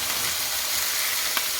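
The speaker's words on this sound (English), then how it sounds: "We're just adding our mince now." Minced meat, just added to cooked onion in a pan for a chow mein cabbage stew, sizzles and fries with a constant close hiss and a brief stirring scrape, and no voices.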